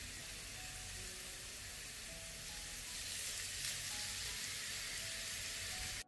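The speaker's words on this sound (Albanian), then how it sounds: "Tani në vaj në ndjekur mirë, i shtojmë dhe i fërgojmë filetat e pulës" Chicken fillets frying in hot oil, giving a steady, dense sizzle that swells slightly partway through, heard close and continuous with no voices.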